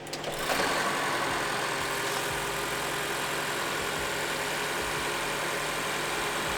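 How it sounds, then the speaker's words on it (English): A 2022 Lexus NX350h hybrid starts up after an oil change and settles into a steady, loud, continuous engine hum that holds evenly for several seconds, close by and with no talk. "We're gonna start the vehicle."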